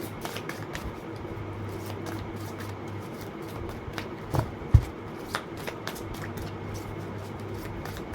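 Tarot cards being shuffled by hand in a steady, continuous riffle close up, with a few sharper taps and snaps of the deck standing out partway through.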